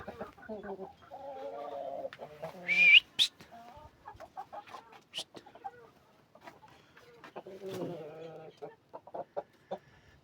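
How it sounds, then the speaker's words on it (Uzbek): Large black Andijan chickens cluck and murmur nearby in short bursts, with a sharp high squawk partway through and scattered clicks around them. "Andijondagi katta qora tovuqlar"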